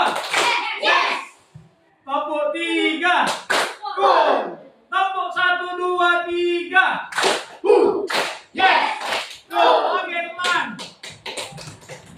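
Schoolchildren in an elementary classroom clap in short rhythmic bursts on cue, sharp unison slaps alternating with a voice and children's chanting voices between the claps.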